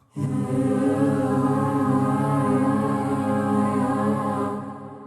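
A held synthesizer chord from the Sampleist Folds instrument with a warble effect, its wavering, slightly unsteady pitch sounding worn and tape-like, steady in volume before fading at the end.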